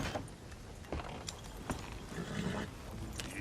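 Horses in Red Dead Redemption 2 at night, with hooves clopping and shuffling nearby, a short whinny or snort, and tack jangling, set against a dense outdoor background with no talk.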